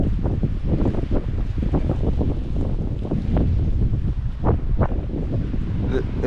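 Strong wind blows steadily through a deep snowstorm on Prince Edward Island, a loud, continuous rushing roar with gusty surges buffeting the microphone close up, with no other sounds standing out.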